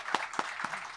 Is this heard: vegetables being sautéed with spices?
no